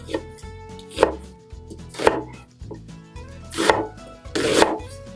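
A knife chops an onion on a board for cabbage rolls, giving several sharp, close thuds spaced about a second apart, with no talking.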